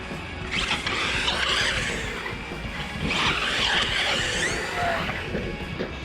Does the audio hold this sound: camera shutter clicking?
no